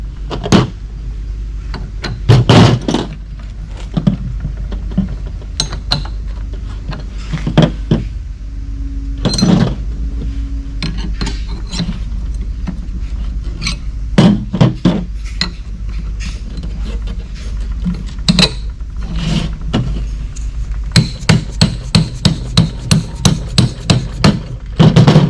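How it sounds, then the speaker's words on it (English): Hammer blows drive bolts into a steel Suzuki Samurai transfer-case cradle: sharp metallic strikes come in scattered pairs and clusters, then a fast, evenly spaced run of close, loud taps near the end, with no talk. "typically it's very common to hammer them in."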